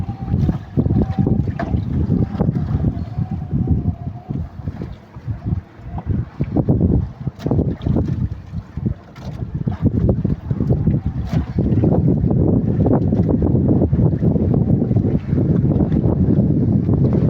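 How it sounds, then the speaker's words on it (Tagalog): Strong monsoon wind buffeting a fishing boat, loud gusty roaring and rumbling against the microphone with water sloshing underneath, continuous throughout. "Malakas ngayon yung habagat dito sa amin mga sangkay."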